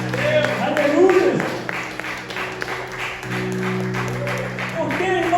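A church congregation at a family worship service claps while a voice carries on over it, the applause lively but partly masked by speech and sustained tones.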